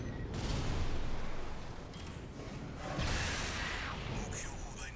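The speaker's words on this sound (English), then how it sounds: "I'm shooting at that thing." Continuous dense gunfire and mechanical weapon noise from a mech in Armored Core VI, a steady broadband roar with bursts swelling around the middle and later, no clear speech.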